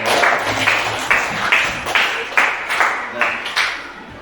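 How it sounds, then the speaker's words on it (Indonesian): Audience applause at a teacher-training session at an Islamic university in Tulungagung, a short burst of rhythmic clapping from a small group in a room, fairly close and steady. "Beri tepuk tangan buat semuanya."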